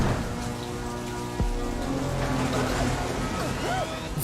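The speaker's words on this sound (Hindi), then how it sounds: "अब तो तुम्हारे साथ रोने के लिए बारिश भी आ गई।" Steady cartoon rain pours over a scene in an animated Hindi movie, a constant hiss of falling drops at fairly loud level, with a low thump and musical tones mixed in under the rain.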